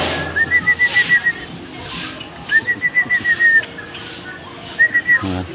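A pet Java sparrow chirps in three short bursts of quick, high, whistle-like notes, close by and fairly clear over a soft, steady background hiss.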